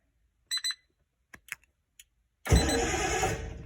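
Short electronic beeps and clicks, then a Triumph TR-6 with a newly fitted push-button start begins cranking on a cold morning, a loud continuous churning that carries on to the end.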